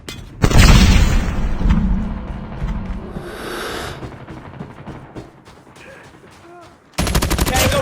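In the mobile shooter Call of Duty Mobile, a grenade blast booms loudly and rumbles, followed by scattered gunfire and clicking mechanisms, then a burst of rapid automatic fire cuts in at the end.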